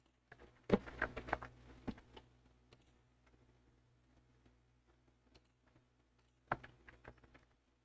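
Computer keyboard typing in a quiet room during math work, with a quick burst of clattering keystrokes followed by sparse taps and a second short flurry, near and moderate in loudness.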